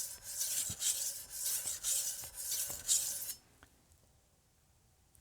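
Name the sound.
Wusthof chef's knife being sharpened on a whetstone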